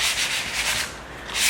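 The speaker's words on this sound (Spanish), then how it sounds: "yo cojo la lija luego" Sandpaper rubbing over a graphite pencil drawing on paper, a soft, close, steady scratchy hiss in repeated back-and-forth strokes, heard alone.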